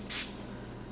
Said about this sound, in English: Now, I am going to spray my finger.